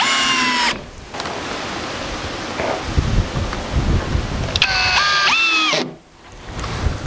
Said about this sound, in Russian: Тридцать пятый саморез идет в ход.